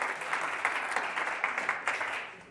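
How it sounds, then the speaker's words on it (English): Light clapping from a small audience at a wellness enrichment night for Tony LeBron, a brief scattered patter of hands, moderately quiet and fading toward the end. "so he should get a hand clap"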